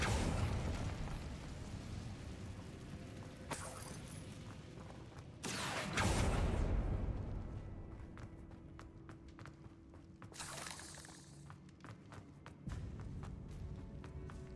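Incendio fire spell cast in Hogwarts Legacy, a few sharp whooshing bursts of flame standing out over ambient game noise and footsteps, with one big blast in the middle and fainter pops later.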